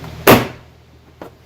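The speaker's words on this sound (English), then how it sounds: "next you're just going to pull the door panel off and up" A door panel on a 2015-18 Jeep Renegade is pulled free with one sharp plastic pop of a releasing clip, followed about a second later by a fainter second click, close up and with no talking.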